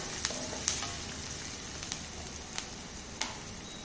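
Onion sautéing in a pan for potato curry gives a soft, continuous sizzle, with a few sharp spatula taps and clicks spaced about half a second apart. Close but fairly quiet, no voices.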